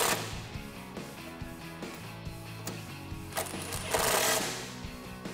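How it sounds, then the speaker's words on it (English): A 13 mm socket tightens a bolt while a Barricade HD drop side step bar is fitted to a 2005-2019 Toyota Tacoma Double Cab, giving a close run of repeated metallic clicks and rattling turns, with a brief louder burst near the end. "Grab your 13 millimeter socket and tighten it down."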